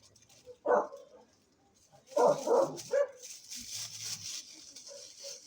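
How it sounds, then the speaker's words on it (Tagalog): Dogs bark outside at night in short bursts, a few sharp yaps then a cluster of barks, with faint background noise and a distant whine. "Maingay mga aso guys."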